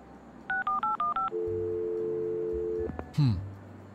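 Telephone dialing in the Leisure Suit Larry video game, a quick run of six touch-tone beeps followed by a steady tone and a short electronic blip, moderately quiet.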